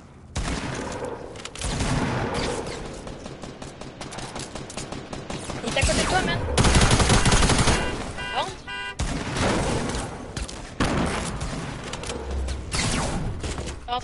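Video game gunfire in a duo squad match: continuous loud bursts of rapid shots and booms fill the whole stretch, with players talking over the shooting.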